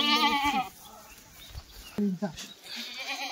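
A herd of Kathewadi goats bleats repeatedly, loud, wavering calls up close with overlapping animals, while someone talks between the bleats.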